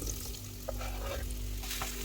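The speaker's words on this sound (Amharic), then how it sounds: "ዘይቱ ትንሽ ጋል ሲልልን የከተፍነውን ድንች እናደርጋለን።" Chopped potatoes fry in hot oil in a pan, giving a steady, close sizzle with faint crackles and pops, no voices present.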